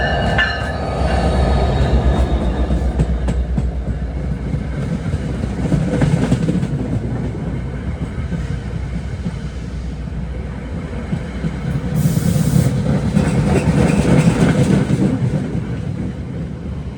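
New Jersey Transit PL42AC diesel locomotive No. 1357 arriving from Hoboken and terminating, a loud, steady rumble of engine and rolling cars with wheel squeal and clicking rail joints throughout.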